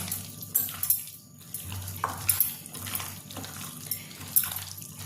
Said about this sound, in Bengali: এবার আমি ভালো করে মাংসটা মাখিয়ে নেব।